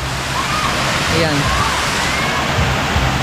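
A waterfall in Mindanao roars as a steady, loud broadband rush of falling water, with a person speaking briefly over it.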